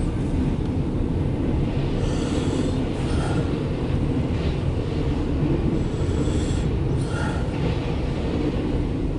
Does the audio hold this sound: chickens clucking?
no